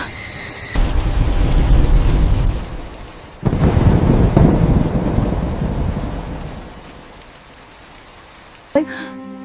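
Heavy rain pours down in a thunderstorm, a steady close hiss with deep rumbling underneath. It swells again midway, then eases and thins toward the end before a brief burst of other sounds.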